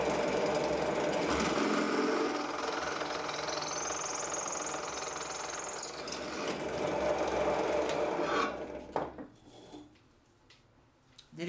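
A drill bores a hole in metal with a bit sharpened on an Opti Grind GQ-D13 drill grinding machine, a steady loud grinding whir running for about eight seconds before dropping off into quieter handling noise.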